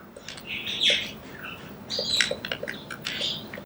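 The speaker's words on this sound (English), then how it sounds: "And the birds are so noisy during the day." Birds chirp and tweet outside in daytime, several overlapping calls repeating across the whole stretch at moderate distance, with no voices.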